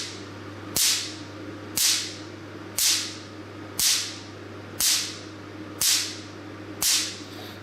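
A picosecond laser fires seven crisp, loud snapping pulses at a steady one-second rhythm, each a sharp broadband crack that decays quickly over a constant low mains hum.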